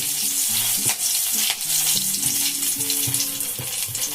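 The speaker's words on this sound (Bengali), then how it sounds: "দেখুন আমি ফোড়নে দেব একটা এলাচ তিনটে লবঙ্গ এক দারচিনি একটা তেজপাতা" Whole cardamom, cloves, cinnamon and a bay leaf crackle in hot oil for tempering, a loud close sizzle with spitting pops and steady hiss, overlaid by faint tonal chimes of background music.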